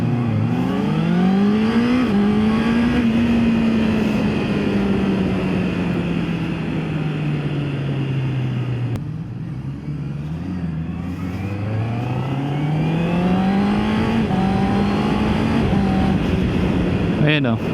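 A Honda CB650R E-clutch motorcycle engine revs at low road speed, its pitch swelling and falling in repeated waves while someone talks throughout.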